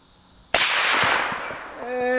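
A single sharp, loud gunshot rings out from a gun fitted with an Amazon weapon light, and its decaying tail lingers before a voice starts speaking.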